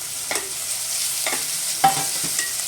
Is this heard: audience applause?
no